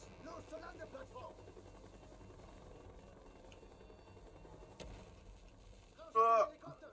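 A helicopter in the video game Call of Duty Black Ops thrums as a steady low mechanical drone under a faint voice, with a brief louder burst near the end.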